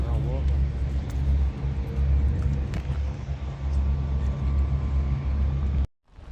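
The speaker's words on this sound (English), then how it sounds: "we've got a car coming in" A car rolls into a work yard on a rainy day, a steady low engine rumble that holds close and loud before cutting off abruptly near the end.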